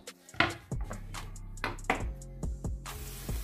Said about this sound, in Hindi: जो दूसरे प्याज रह गए हैं वो भी हम काट कर इसमें ऐड कर देते हैं